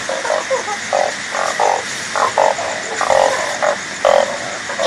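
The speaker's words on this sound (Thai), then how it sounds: "ทั้งอึ่งทั้งกบครับ" Narrow-mouthed frogs and other frogs caught in rainy weather croak together in a dense, repeating chorus of short pulsing calls. The calls are loud and close, with no voices.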